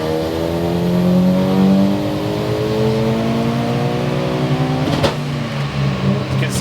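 A Mitsubishi Evo 9 engine revs hard on a dyno run, its exhaust note climbing steadily and loudly in pitch before a sharp break near the end, with voices faintly underneath.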